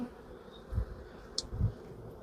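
Honey bees buzzing at a hive in an apiary during a Formic Pro varroa treatment, a low steady hum with a couple of louder swells as bees pass close.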